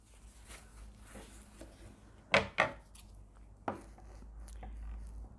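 A strong little wooden dowel core is chopped down with a cutting tool, giving two sharp close snaps in quick succession and then a third a second later, over a quiet room background.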